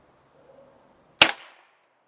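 A single sharp crack from a Webley Nemesis .177 CO2 air pistol, one close, abrupt pop after near silence, fading quickly with a short tail.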